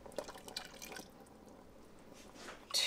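Half a cup of water is poured into a Ninja Foodi XL pressure cooker holding tomato soup ingredients and heavy cream, making faint, close splashing and dripping that ends in a brief louder splash.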